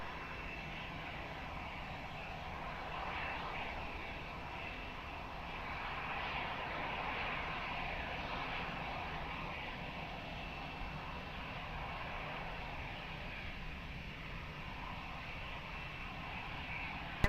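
An airliner takes off from runway 20 at Lisbon Airport, its engine roar heard from afar as a broad, steady rumble that swells slightly in the middle and holds to the end.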